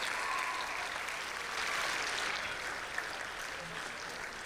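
An audience at a company-of-the-year awards gala applauds steadily. It is a dense, even wash of clapping heard from some distance throughout, with no voices over it.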